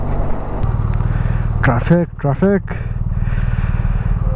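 A BMW 1250 motorcycle rumbles steadily on a long highway ride in traffic, a close, continuous engine drone with wind, while someone talks over it briefly.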